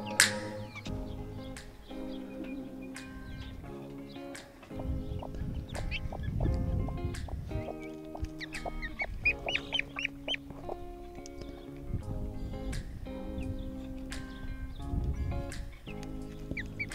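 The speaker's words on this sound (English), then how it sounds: "we ended up getting two of the Muscovy ducklings from our friend and viewer, Eric," Young Muscovy ducklings and other poultry call repeatedly in short, irregular peeps and quacks, some close and some farther off, scattered over a quiet background.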